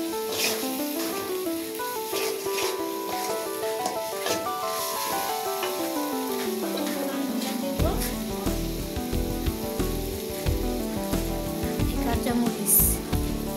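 Beef tripe and whole potatoes frying in oil in a home kitchen pot, a steady sizzle with scraping and rubbing as the mixture is stirred, the stirring growing busier toward the end.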